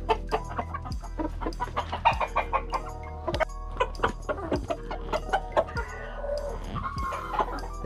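Hens cluck nearby in a busy, overlapping chorus of short calls, steady throughout with no talking.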